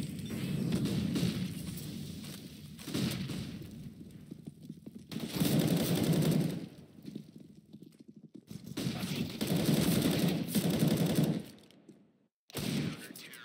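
Counter-Strike match play with Desert Eagle pistol fire, bursts of rapid shots and rumbling impacts recurring in waves over steady game noise, broken by brief quiet gaps.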